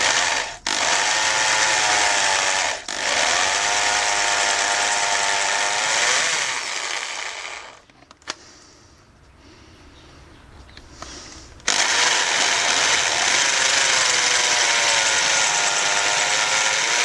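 Power drill boring out the pins of a Honda Transalp XL650V motorcycle chain, a loud steady high-pitched whine running nearly continuously with a couple of brief stops and a quieter pause before resuming.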